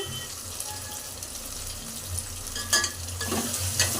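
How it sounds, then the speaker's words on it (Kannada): Food frying in a pan during home cooking, a constant close sizzle with scraping stirs and clinks of a utensil against the pan near the end, no voices. "ಈ ಥರ ಚೆನ್ನಾಗಿ ಫ್ರೈ ಆಗಬೇಕು"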